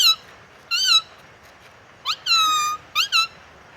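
A person mimics a myna bird with a run of high, squeaky whistled chirps: a single note, a pause, then a quick cluster of rising and falling calls, close and clear with no talking.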